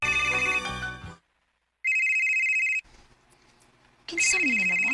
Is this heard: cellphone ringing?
yes